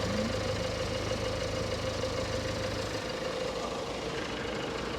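Skoda Fabia 2008 1.4 petrol/gas engine idling with a steady rough, ticking hum, close and moderately loud, no talking.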